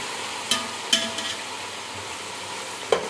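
Chicken with spices, tomatoes and green chillies is fried and stirred in a non-stick pan, a low sizzle broken by a few sharp spoon scrapes and clinks at irregular intervals.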